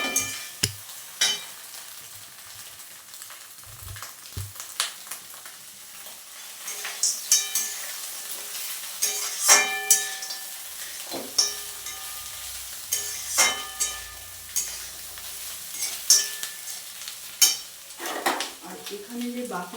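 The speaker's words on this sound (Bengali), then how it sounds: "ভালোভাবে এই ডিম আর পেঁয়াজের সঙ্গে ফ্রাই হয়ে গেছে" Egg and onion fry in a pan while being stirred: a steady sizzle runs throughout, broken by frequent sharp scrapes and clinks of a utensil against the pan, with no talking.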